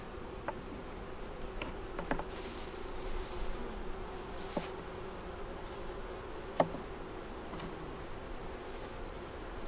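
Faint honey bees buzz steadily in the background during winter sugar feeding, with scattered soft ticks and clicks over a low outdoor hiss.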